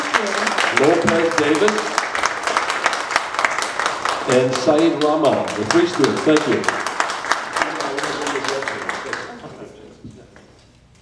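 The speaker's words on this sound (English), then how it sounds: "Let's give her a nice round of applause." Audience applause for students at a Hamtramck NAACP community forum, a steady broadband clapping that runs under speech for about nine seconds before fading out.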